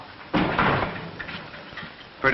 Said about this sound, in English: Shut the door, Tom.